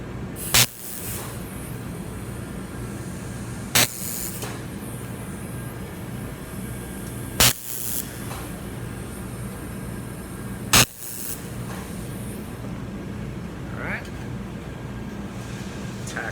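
Tack welds placed on two nuts by a welder working with both hands, heard as four sharp, brief cracking bursts spaced a few seconds apart over a steady loud hiss and hum.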